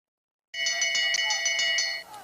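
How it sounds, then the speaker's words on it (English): A bell rings fast and steady for the final lap of a long track speed skating race. The bright metallic strikes carry on for about a second and a half, then stop suddenly, and the hall echoes faintly afterward. "Bell lap for Lindqvist and Phaneuf."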